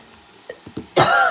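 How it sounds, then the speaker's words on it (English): Close, loud cough from one person: a few small throat sounds first, then a harsh rasping burst, with no talking. "obviously I've started coughing again"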